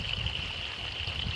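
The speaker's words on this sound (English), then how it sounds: "Now what I got is my hose running in there" Water from a garden hose runs into a roof's channels, a soft steady trickle and hiss that is faint and continuous, with no talking.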